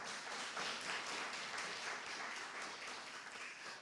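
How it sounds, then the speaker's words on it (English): A crowd at the Isratech Resilience Farm Tour launch claps steadily for the farmers and Georgette, a dense, even wash of applause that holds at a constant level throughout. "Give Georgette a bigger clap."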